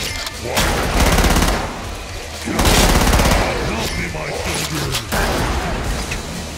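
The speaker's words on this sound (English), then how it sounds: "A chain gun? You've got to be kidding. A machine gun for an arm?" A chain gun in the video game Killing Floor fires in long, rapid, loud bursts, broken by short pauses, with a voice calling out during the battle.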